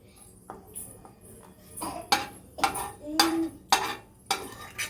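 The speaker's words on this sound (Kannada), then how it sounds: "ಈಗ ಅದೇ ಬಾಣಲೆಗೆ ಶಾವಿಗೆ ಹಾಕೊಂಡು ಬ್ರೌನ್ ಕಲರ್ ಬರೋ ತನಕ ಹುರ್ಕೊತಾ ಇದ್ದೀನಿ" Vermicelli roasting in ghee in a frying pan until brown, heard as a series of sharp, close scrapes and clinks of a utensil stirring against the pan, rising in bursts over a faint background sizzle.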